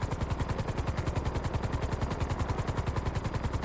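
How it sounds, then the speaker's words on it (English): Video game helicopter, a fast steady rotor chop of evenly spaced thumping beats running continuously at moderate level, with no talk over it. "There's a helicopter."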